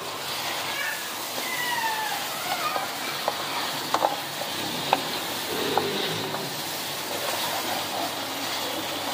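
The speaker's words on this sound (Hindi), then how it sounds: "अब इसके अंदर हम डालेंगे ये कीमा। आराम से और एहतियात से डालिएगा। अब इसे हम भून लेंगे।" Minced meat (keema) dropped into hot ghee gives a steady, fairly loud sizzle with scattered crackles throughout. No voices.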